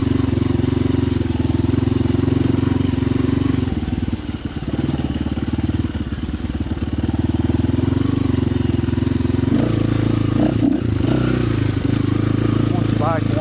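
A dirt bike engine runs steadily as the bike warms up outdoors, a continuous buzzing idle with slight rises in revs, heard close alongside people talking.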